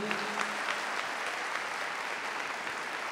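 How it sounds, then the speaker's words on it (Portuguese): An audience at a religious gathering claps steadily, a dense, even applause held for a few seconds at moderate distance. "Uma salva de palmas para vocês todos aqui."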